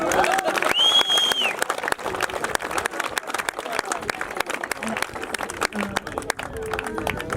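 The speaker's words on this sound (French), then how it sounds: "je voudrais que vous vous applaudissiez tous, vous le méritez tous" An audience at a French gathering claps together in a sustained burst of applause mixed with crowd murmur and a few voices, moderately loud and steady throughout.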